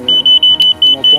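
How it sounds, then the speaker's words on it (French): A uRTime race timing chip beeping at lateral detection as runners pass: a rapid series of short, loud, high-pitched electronic beeps in an even rhythm, with a brief voice underneath. "on entend la puce biper."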